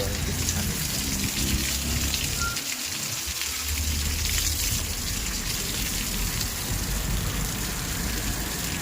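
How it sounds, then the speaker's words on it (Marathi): A steady, hissing spray of water patters onto the leaves and flowers of nearby plants, continuous and fairly loud throughout. "हे बघा झाडांना पाणी मारतोय"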